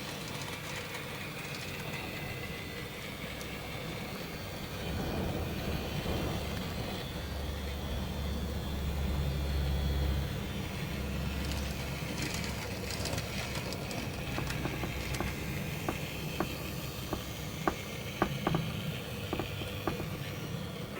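N gauge model Class 170 train in Midland Main Line livery running on a layout, with a continuous low rumbling whir of the small motor and wheels, brief clicks over rail joints toward the end, no talk.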